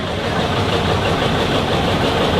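A 1959 Ford 901 Powermaster tractor idles at a summer parade of power, its engine giving a loud, steady low rumble close by with no talk over it.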